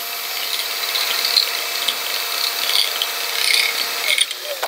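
A cordless drill's clutch ratchets steadily while driving a fastener into a vintage camper's exterior, a continuous close buzzing clatter that carries on for several seconds before breaking off abruptly.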